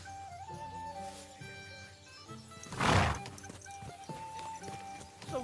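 Horse hooves clip-clop under a game's music bed in Kingdom Come: Deliverance 2, with a louder burst near the middle that may be a whinny or snort; steady, moderately close, no talk.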